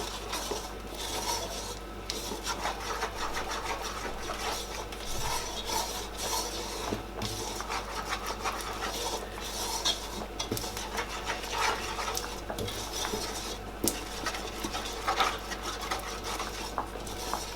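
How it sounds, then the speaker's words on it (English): Lamb ribs being mixed by hand with paprika, Nigerian hot chili and salt make a continuous wet rubbing and squishing, with occasional clinks of a bowl over a low steady hum. "I'm going to mix everything together."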